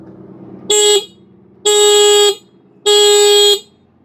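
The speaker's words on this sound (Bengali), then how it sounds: "এই হচ্ছে হর্নের বাটন দিলাম চাপ" Three loud, close blasts of a motorbike horn fitted on a bicycle, each a bright buzzy tone lasting under a second, separated by short pauses.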